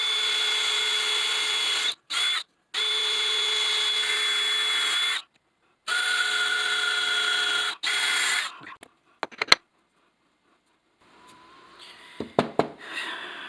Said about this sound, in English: now drill a couple of holes in this to give it a little bit of air to circulate